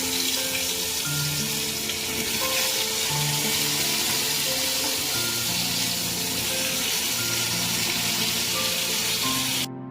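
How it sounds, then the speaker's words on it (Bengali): Ridge gourd slices sizzle in hot oil in a pan where potatoes were just fried, giving a dense, continuous hiss and crackle at close range that runs steadily without a break. "ওই তেলে দিয়ে দেব ঝিঙ্গেগুলো।"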